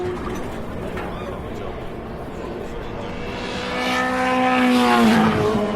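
A Ferrari race car engine pops and crackles as it passes, a rising, nearby engine note with a falling pitch sweep and a swell in loudness near the end, over a steady background rumble.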